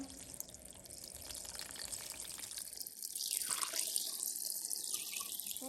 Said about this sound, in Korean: 잠길 정도로 생수를 부어줘요